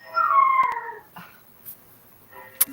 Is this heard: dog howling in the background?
yes